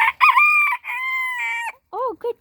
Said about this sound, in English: Yes, they like crowing